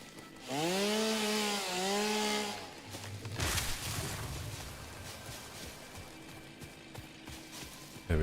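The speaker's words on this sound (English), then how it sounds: "This tree's in the way. Where's my chainsaw?" A chainsaw in the video game Satisfactory revs up with a rising and falling buzzing whine, then bites into a tree with a rough, grinding cut that fades into crackling debris.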